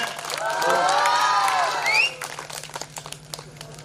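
A crowd gives a long, loud drawn-out cheer at a felicitation during a Kongunadu folk-art troupe show near Karur, where a guest is honoured with a shawl, then breaks into scattered clapping that trails off.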